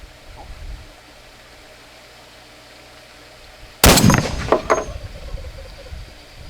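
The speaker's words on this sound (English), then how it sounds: "Fire your first 50 cal." A single heavy blast from a Barrett .50 caliber rifle fired outdoors, one loud sudden crack with a rolling echo and a few trailing rattles after a quiet lead-in.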